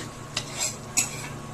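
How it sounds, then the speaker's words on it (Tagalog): A spoon stirring a large chicken dish in a pot, two or three quick close scrapes and clinks over a low simmer. "haluin natin para magpantay yung ano niya para mahalo yung mga ingredients niya"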